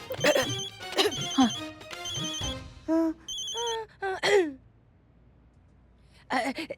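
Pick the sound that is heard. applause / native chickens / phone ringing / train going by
phone ringing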